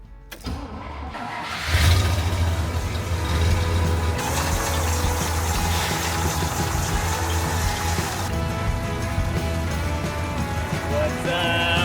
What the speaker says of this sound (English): we're gonna wrap this stuff up and get this truck backed out so we can take a look